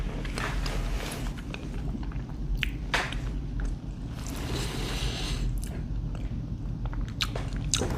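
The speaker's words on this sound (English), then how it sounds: "So I will be taking a bite of this" Someone bites into and chews MRE beef taco filling close up, a steady run of wet, squishy chewing and soft crunches across the whole stretch with no talk.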